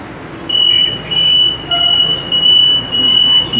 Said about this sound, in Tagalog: Nandito na kami sa loob ng LRT.